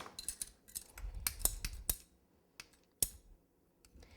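PVC pipe cutters snip through cake support dowels, giving a series of sharp, close clicks and crunchy snaps in uneven bursts, with quieter gaps between cuts.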